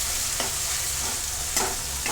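Leftover masala paste for stuffed bitter gourd sizzles steadily in a hot oiled pan, a constant frying hiss with a few scraping stirs of a spatula.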